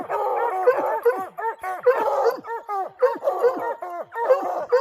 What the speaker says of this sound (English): I'm going to reward these dogs.